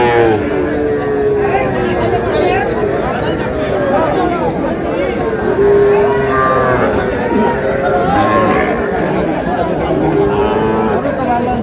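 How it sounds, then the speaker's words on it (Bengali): Young bull calves at a cattle farm in Cumilla give drawn-out moos that rise over constant crowd chatter and talking, the lowing repeating throughout at close range. "ষাঁড় বাচ্চা।"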